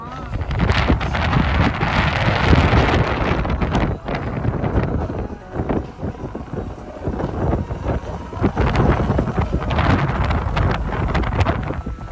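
A motorboat ride near Guwahati with loud wind buffeting and engine rumble, water slapping now and then, and a voice briefly under the noise.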